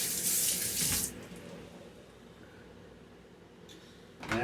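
Hands are rinsed under a running kitchen tap while preparing holiday turkey, a close, loud splashing rush of water that cuts off after about a second, leaving a quiet room before a second short gush at the end.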